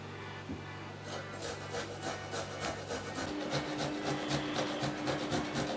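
Walnuts are rubbed over a fine grater in fast, even rasping strokes that start after a second and continue rhythmically, soft and close with no talking.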